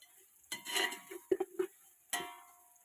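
Onions are stirred in a pan for chicken biryani, a spoon scraping and clinking against the metal in a few short strokes over a faint background sizzle.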